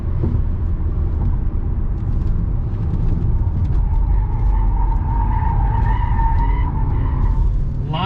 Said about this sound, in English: Let's throw it into sport mode again. We'll hit this corner.